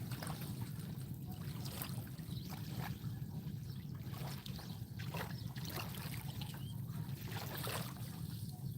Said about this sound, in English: listening to the little waves roll up on the beach